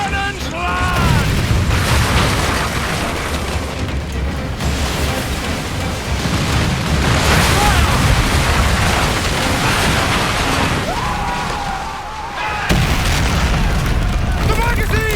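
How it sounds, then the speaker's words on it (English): Ship cannons firing in Assassin's Creed Black Flag, a sustained barrage of deep booms and rumbling naval battle din, with shouting voices mixed throughout. "Uncork the cannons, lad!"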